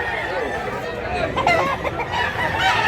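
A rooster offered for sale at a Cebuano chicken seller's stall clucks and crows nearby while people talk over it in a busy setting.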